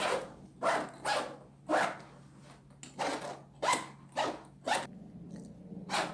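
Zippers on a concealed carry messenger bag pulled open in a series of sharp, rasping strokes, around ten quick zips with brief pauses between, close and fairly quiet, no voices.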